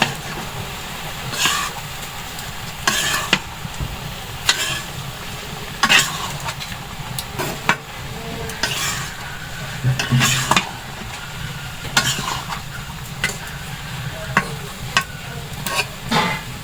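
Village-style bhorta mash is stirred in a pan after oil is added, with a soft continuous sizzle broken by repeated scraping strokes of a utensil against the pan at close range.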